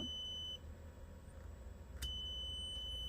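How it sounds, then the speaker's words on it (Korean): A multimeter's continuity buzzer beeps as it tests a shorted resistor removed from a power supply damaged by reverse voltage, a thin, steady high tone that stops, then resumes after a brief click, quiet under faint background hum. "저항 모드로 놓고 부저 모드로 놓고 한번 봐 보겠습니다"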